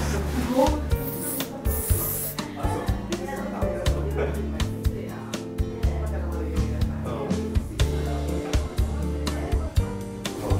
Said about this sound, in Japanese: まずスプレーをつけます。